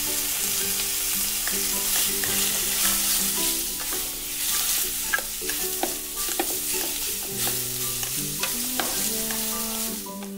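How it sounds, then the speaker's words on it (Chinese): Beef sizzling in a pan of a colour-changing Peppa Pig toy kitchen, a continuous frying hiss layered with repeated clinking, scraping and tapping sounds and a recurring tonal melody, no talking. "接下来再煎一块牛肉。"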